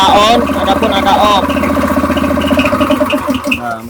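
A petrol-powered engine driving a pump and compressor runs steadily nearby with a loud, even mechanical hum, while a person talks over it.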